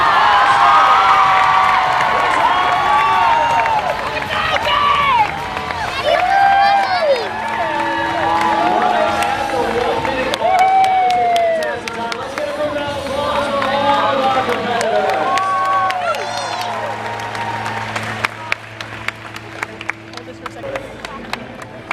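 A large live Fear Factor studio audience cheers and claps loudly and continuously, with shouts and whistles over the applause, thinning toward the end into scattered claps.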